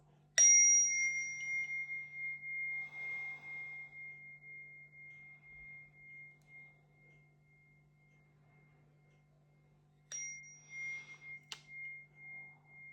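A chime is struck twice, about ten seconds apart, in a quiet room. Each bright ring hangs in the air and slowly fades.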